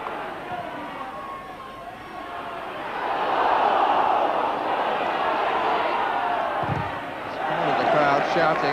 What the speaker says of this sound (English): The crowd shouting.